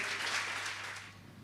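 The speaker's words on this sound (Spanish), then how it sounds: "Un aplauso para ellos." Quiet, steady applause from a church audience, a soft wash of many hands clapping that fades slightly toward the end.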